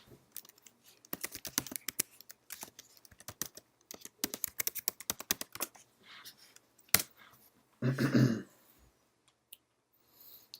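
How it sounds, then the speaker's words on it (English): Close, light keystrokes on a computer keyboard come in quick irregular runs with brief pauses as login credentials are entered, followed by a short louder rustle near the end. "type in your credentials"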